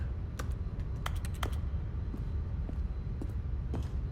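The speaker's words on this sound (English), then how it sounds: "The clicking sound makes me think I'm still at the computer or something." Keyboard keys click in an irregular scatter of soft, close taps over a steady low hum, from an office computer scene in The Stanley Parable video game.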